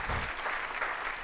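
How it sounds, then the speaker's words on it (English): A studio audience at a firearms talk show breaks into brief, full applause, a short burst of clapping from the crowd. "Let's give her a big round of applause."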